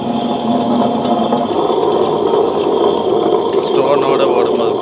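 A Lakshmi 2-litre wet grinder with roller stones running empty, giving a steady, loud mechanical hum and rumble with a faint rattling whir throughout.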